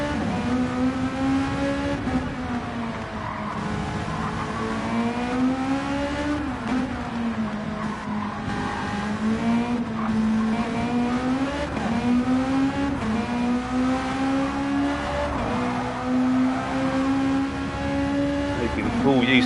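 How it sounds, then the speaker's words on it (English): A Volkswagen Beetle race car in a racing video game at Barcelona drones steadily at high revs, the pitch rising and dipping through gear changes and corners, with commentators talking over it throughout. "I just love the sound of that beetle."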